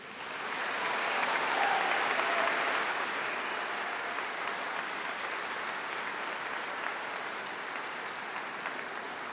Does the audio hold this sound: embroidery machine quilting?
no